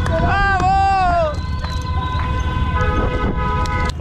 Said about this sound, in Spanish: Toca bocina si te gusta la bici.